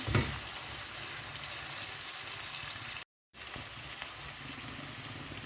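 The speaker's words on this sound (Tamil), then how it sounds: "காஞ்ச மிளகாய், வதங்கட்டும்." Dried red chillies fry in hot oil with a steady, close, dense sizzle that drops out briefly midway and then resumes just as strongly.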